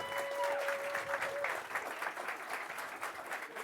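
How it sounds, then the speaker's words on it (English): An audience at an esports awards ceremony in Malta claps steadily, a dense sustained applause filling the room, with a host's voice faintly over it. "Another round of applause"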